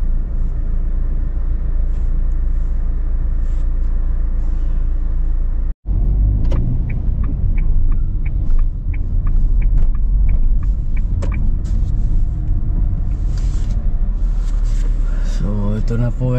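Heavy summer road traffic in Ibiza, Spain, heard from inside a moving car: a constant low rumble of engines and tyres with passing vehicles, a brief dropout partway, and a voice talking over parts of it.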